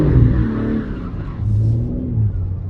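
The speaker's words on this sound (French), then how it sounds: "Là je suis à l'arrêt," Rally car pulling away from a standstill on icy road, wheels spinning on the glaze: a loud, close engine rising and surging in steady revs for under three seconds, with no talk over it.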